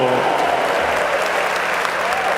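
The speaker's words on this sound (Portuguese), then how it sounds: "Uma salva de palmas a Jesus misericordioso." A church congregation claps together at a worship service, a dense and steady round of applause filling the room throughout.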